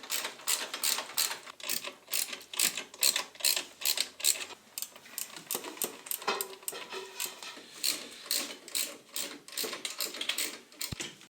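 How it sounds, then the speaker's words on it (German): A ratchet wrench clicks in quick, steady bursts while tightening three engine mount bolts on a VW Polo 6N2 with a 1.0 MPI engine, close and fairly quiet, with brief pauses between strokes. "Die 3 Schrauben werden jetzt mit 40 Newtonmeter angezogen."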